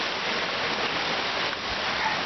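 Loud rushing water roars outdoors at sunset, a steady, unbroken hiss-like wash that stays at even volume throughout with no other sounds breaking through.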